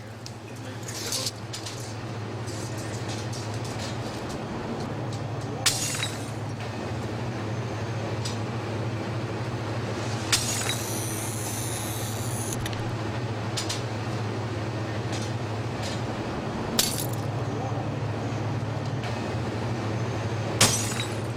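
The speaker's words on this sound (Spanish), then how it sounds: "Al otro extremo del horno se cortarán los óvalos irregulares de cristal hasta convertirlos en un rectángulo." Irregular glass ovals being cut into rectangles in a glass factory: a steady low machinery hum runs throughout, broken by a few sharp snapping and clinking bursts and one longer hiss, all fairly close.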